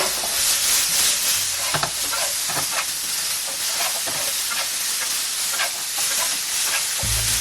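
Fish with salt and pepper sizzles loudly on a hot tawa pan while being stirred, a steady close hiss broken by quick scraping strokes, with no talking.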